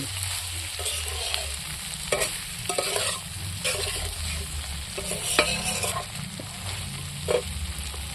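Spice masala sizzles in plenty of oil as it is stirred, with a steady frying hiss and occasional scraping sweeps of the spoon across the pan for Bengali egg and soybean curry.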